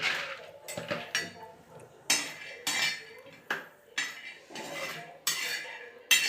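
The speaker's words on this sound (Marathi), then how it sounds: "आता थोडीशी शेंगदाणे इथं भाजून घेणार आहे" Peanuts roasting in a pan for chutney, a close run of repeated metallic clinks and scraping strokes of a spatula against the pan in an uneven rhythm, with no talk.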